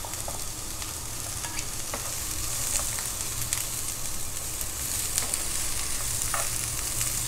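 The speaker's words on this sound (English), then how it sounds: "I'll saute my carrot and then add my zucchini and other vegetables." Carrot and zucchini sauté in a pan for vegetable noodle soup, giving a steady close sizzle with scattered scraping stirs throughout and no talking.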